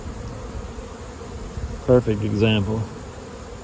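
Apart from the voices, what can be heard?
honey bees buzzing during mite check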